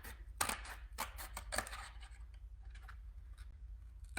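Scissors snip through paper pieces for winter ornaments, a few crisp, close cuts spaced irregularly, then softer rustling and small scraping handling sounds, with no speech.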